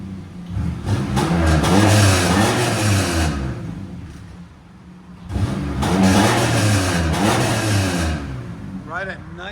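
A 2002 Chevy Camaro with a 3.8L V6 and a Cherry Bomb Pro muffler revs twice through its exhaust. Each rev is a loud, rising and falling roar, with a dip to idle between them and a voice nearby.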